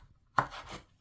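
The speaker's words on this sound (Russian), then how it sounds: "Нарезаем небольшими кубиками." A knife slices through a fresh tomato on a cutting board, making one soft, close cut, a single brief thump with a short scrape after it and no talking.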